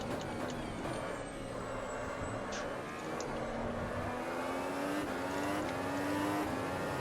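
A Formula 1 car's engine drones flat out at Suzuka in a racing game. The high, continuous whine climbs steadily in pitch as the car accelerates, with a loud, close and unbroken tone.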